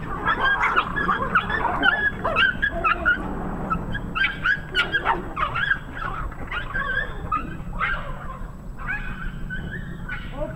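Several dogs bark, yip and whimper excitedly in a noisy overlapping chorus, close by and continuing without pause.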